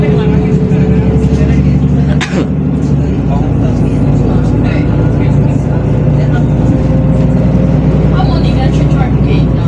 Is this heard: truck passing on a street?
yes